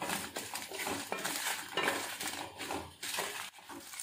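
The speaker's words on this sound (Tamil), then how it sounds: "சேர்த்து நல்லா வதக்கிடுங்க." Garlic and dried red chillies sautéing in a pan for garlic dosa, with scraping and clinking of a metal spatula against the pan in steady, close bursts and no talking.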